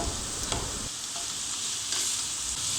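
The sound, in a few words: cabbage frying in a pan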